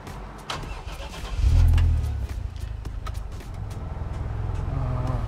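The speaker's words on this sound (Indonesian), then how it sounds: "saya nyalain mobil ya" A 1964 Holden EH fitted with a Toyota 1JZ-GTE engine cranks and fires up, swelling into a loud starting roar before settling into a steady, close idle rumble.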